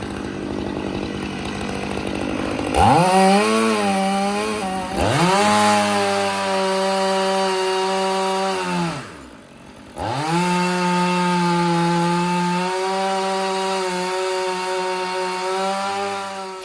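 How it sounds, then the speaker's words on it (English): A chainsaw cuts notches into short pieces of wood, loud and close, its engine revving up and down in repeated passes with a brief pause between cuts. "we're cutting these little notches in a couple of places that we can tie the knot around and into"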